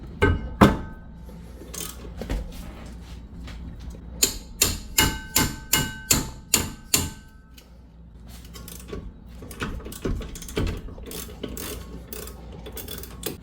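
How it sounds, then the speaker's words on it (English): A hammer strikes a wrench to break loose 17mm brake bracket bolts on a Honda Odyssey rear brake, giving a series of sharp metallic clanks in a quick steady run, with scattered clinks and ratcheting before and after. "Usually hitting the wrench helps."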